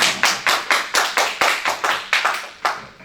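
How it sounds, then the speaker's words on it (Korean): About a dozen sharp, evenly spaced hand claps ring out close and loud in a church worship service, with no voices over them. "우리 큰 박수로 한번 보내주십니다"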